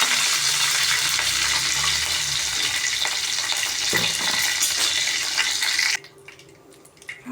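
Curry leaves hit hot oil in a pan and sizzle loudly and steadily for about six seconds, then the frying noise drops away sharply to a faint background.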